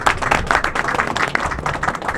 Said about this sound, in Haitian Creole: M'a demandé un gros applaudissement pour ouvrier ça